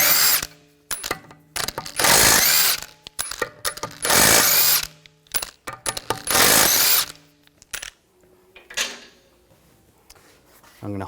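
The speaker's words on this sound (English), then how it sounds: "take the lug bolts out." An impact gun with a 17mm socket rattles lug bolts off the rear wheel of a 2004-2009 Audi A4 Quattro in repeated loud bursts, each followed by clinks and handling noises of loose bolts and metal.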